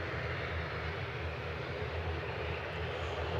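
An ATR 72-500 turboprop operated by Swift Air, lined up for takeoff at Manchester Airport, gives a continuous, steady engine drone heard from a distance with no talk.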